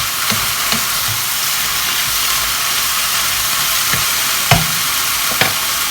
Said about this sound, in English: So don't forget to stir this.